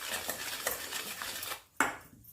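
A spoon scrapes and clinks around a bowl while maida flour batter for rava dosa is stirred, with a quick series of soft taps and swishes, a brief pause, then one sharp clink near the end.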